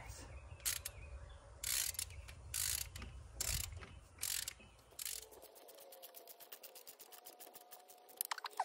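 Ratcheting clicks from a socket wrench tightening valve cover bolts on a 2007 Toyota 4Runner V6, close and fairly quiet, with bursts of clicking in the first half and then a faster, steadier run of small ticks.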